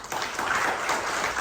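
A church congregation at GBI Rock Cipanas claps during a Sunday sermon, producing a brief, even wash of applause that holds steady for over a second.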